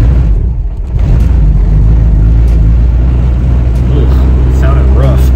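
Turbocharged Honda Civic engine with a rough idle, held on the gas, gives a loud, close, uneven low rumble with a brief dip near the start, and someone speaks briefly over it toward the end.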